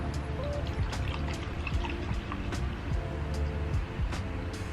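Witch hazel trickles and pours into a container of herbal vinegar, a soft, steady liquid stream with faint clinks, close and quiet throughout.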